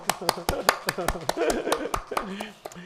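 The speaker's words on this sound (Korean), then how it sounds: "축하 박수" A church congregation at a Sunday service claps in celebration of newlyweds, steady claps close by with people talking and a little laughter over them.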